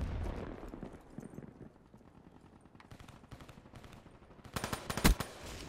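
Gunfire from Black Ops 3 team deathmatch crackles in quick bursts, fairly quiet at first and building to a louder, sharper volley near the end.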